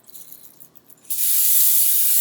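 Cooking oil spray from an aerosol can misted onto a baking pan, a steady close hiss starting abruptly after a quieter lead-in and holding loud and continuous to the end.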